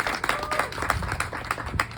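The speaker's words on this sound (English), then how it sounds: "Can you please clap hands for yourselves?" Audience at a women's business event claps for themselves, a sparse but steady patter of hand claps with distinct individual smacks, moderately close and without talk.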